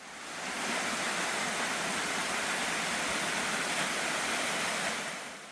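Munwon waterfall in Gwacheon, Korea, dropping down a tall cliff after rain, pours as a constant broad roar of falling water that fades in and out, close and steady with no voices.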